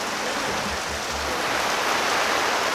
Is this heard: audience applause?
no